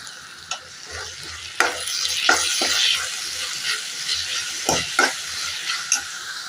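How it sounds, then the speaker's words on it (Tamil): Eggplant, potato and onion sauté in a pan for an egg curry, with a steady sizzle broken by several sharp clacks as a spoon stirs and scrapes, close and fairly quiet. "இப்போ கத்திரிக்காயும் உருளைக்கிழங்கு வெங்காயம் கொஞ்சம் வதங்கிட்டு"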